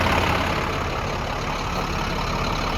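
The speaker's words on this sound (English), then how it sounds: "Solid diesel engine." The diesel engine of a 2011 International PB105 short school bus idles steadily with a dense, continuous rumble, close and unchanging throughout.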